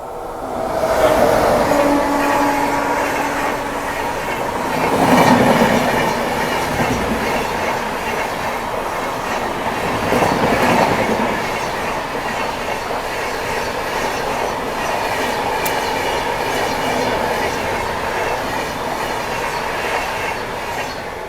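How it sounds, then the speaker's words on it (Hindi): The Howrah Mumbai Mail passes at a crossing, a long rolling rumble of railcars with rhythmic wheel clatter and faint squeals, swelling and easing in waves, with no talk. "अभी सामने से क्रॉसिंग के लिए आ रही है हावड़ा मुंबई मेल।"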